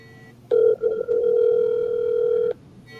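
A phone call to a sleeping friend rings out as one steady electronic tone lasting about two seconds, clear and close, with a short stutter at its start.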